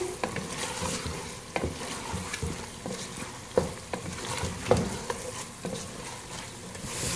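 Chicken stir-fried over high heat in a pan gives a steady, fairly quiet sizzle. A spatula scrapes and clinks against the pan at irregular intervals throughout, and no voices are heard.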